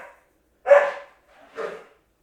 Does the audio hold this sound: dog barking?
yes